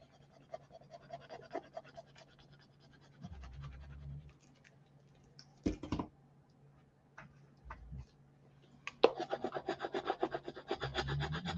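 Paper is rubbed against a 6x8 scrapbook binder in soft, scratchy passes. Quiet strokes come in short bursts, then a denser run of rubbing at the end, with a steady low hum underneath.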